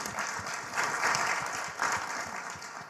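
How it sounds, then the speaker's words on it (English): Audience applause swells and ebbs in a steady wash of many hands clapping, moderately loud and continuous for a few seconds with no voices on top. "Give that a round of applause."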